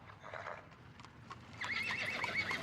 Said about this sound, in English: A coach with 4 horses had drawn up beside us.